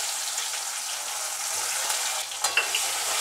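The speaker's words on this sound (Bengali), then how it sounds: "এবার প্রথমেই পেঁয়াজগুলো ভেজে নেব।" Onions fry in oil with a soft, continuous sizzle close by, and a few light stirring scrapes and clinks come near the end.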